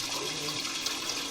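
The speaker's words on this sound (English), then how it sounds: "going to let the water subside and then run back through the line" Water gushes and drains through a plumbing drain line, a steady, close, rushing flow with a gurgling edge that continues without pause.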